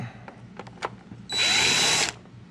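A power screwdriver whirs steadily for under a second while backing small screws out of a Ford Mustang instrument cluster lens, preceded by a few faint clicks and taps at close range.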